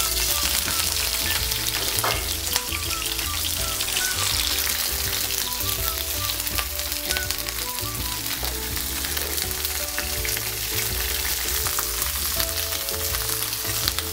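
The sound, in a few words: chicken frying skin-side down in oiled pan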